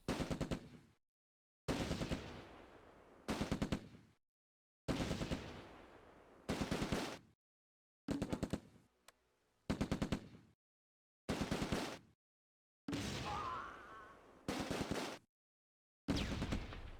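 Stuart light tanks pour machine gun and cannon fire into a farmhouse precinct in the Close Combat A Bridge Too Far war game: about ten loud, rapid bursts of roughly a second each, separated by short silent gaps.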